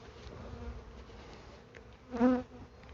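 A honeybee colony buzzes over the frames of a ten-frame hive during a beekeeping inspection, a steady close hum that swells briefly louder near the end, with no talking.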